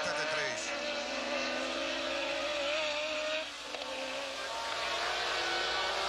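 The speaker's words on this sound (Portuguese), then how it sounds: "E na reta, fala mais alto o motor turbo BMW de Piquet. Fala mais forte que o motor Cosworth convencional de Keke Rosberg." Formula 1 cars at the 1983 Brazilian Grand Prix, led by a BMW turbo engine chased by a Cosworth, give a steady loud engine roar with a rising whine on the straight, blending into constant broadcast background.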